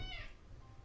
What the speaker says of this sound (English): Oh, yes, I heard that meow.